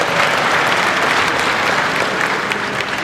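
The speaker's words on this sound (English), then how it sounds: "Yeah, we can clap for that one. I'll clap for that one." Steady audience applause at a Texas A&M football media event, a dense, continuous wash of many hands clapping throughout.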